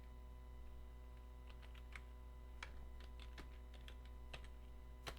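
Quiet, scattered keystrokes on a computer keyboard as notes are typed, soft and somewhat distant over a steady electrical hum, irregular taps spread across several seconds.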